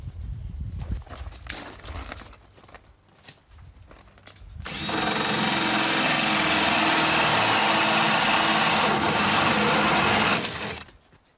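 A power drill bores holes in reclaimed wood while building a smokehouse: after some quiet handling knocks, the drill whirs loudly and steadily for about six seconds, then stops.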